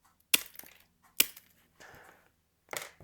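SeaBell double-wheeled glass nippers snap through glass with two sharp, close cracks, each followed by a light crunch, then a softer grinding scrape and a final crackling break.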